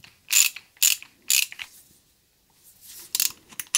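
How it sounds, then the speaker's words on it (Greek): Sharp metallic clicks from a Gedore RED ratchet from a 172-piece socket set: three quick clicks, a short pause, then another burst of clicking, close and crisp with no talking. "τρεις καστάνες, τρεις προεκτάσεις για κάθε"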